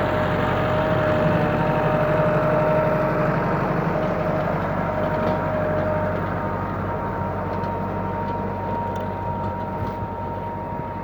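Massey Ferguson 385 tractor pulling an 18-disc harrow across a field in Punjab, Pakistan, its diesel engine a steady close drone with a faint whine early on and no talk.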